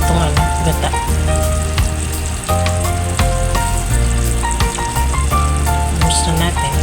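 Coconut milk poured into a hot pan of yellowfin tuna, setting off loud, close, continuous sizzling and crackling with scattered pops and clinks of cookware throughout.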